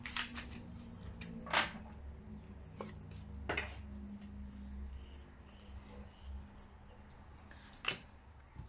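An old tarot deck is shuffled by hand in a quiet room. A few sharp riffling bursts are separated by softer card handling, all faint and close.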